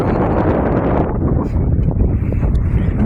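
Strong wind buffets the microphone beside a market with an arched bridge in Bang Sam Thaeo, Thailand, a steady, loud rumbling roar that fills the clip with no voices.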